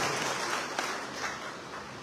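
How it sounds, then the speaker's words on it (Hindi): A crowd at an outdoor political rally gives a burst of applause, a soft, distant wash of many hands clapping that tapers off over two seconds. "आप जोरदार तालियां बजा सकते हैं।"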